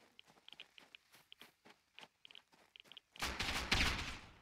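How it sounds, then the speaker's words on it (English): Rapid, light, evenly spaced pops patter through Rust battle royale gameplay, then a louder, heavier burst of noise swells near the end. "Something shooting me from behind"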